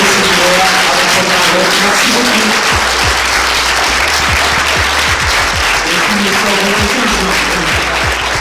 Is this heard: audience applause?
yes